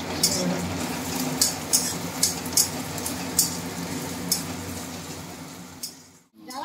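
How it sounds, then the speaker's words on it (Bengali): Chopped ginger and onion fry in hot oil with a steady sizzle, while a utensil stirs and clinks against the pan at irregular intervals, close and moderately quiet. "আদা কুচিটা তেলে দিয়ে দিলাম। পেঁয়াজ আর আদা কুচি দিয়ে দিলেন।"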